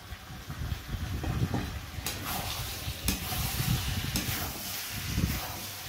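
Chicken pieces, salted, stirred and fried in a pan for a Bengali potato curry, giving a steady close sizzle with scraping stir strokes and a few sharp spatula knocks, no talking.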